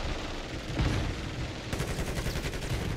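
Rapid gunfire from an X12 pistol in a video game, dense, loud shots running continuously with a change in rhythm midway, with no voices over them.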